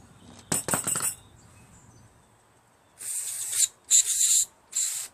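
Lucas Oil contact cleaner sprays in several sharp hissing bursts near a Craftsman LT1500 lawn tractor, preceded by a brief rattling clink, the bursts close and loud with short gaps between.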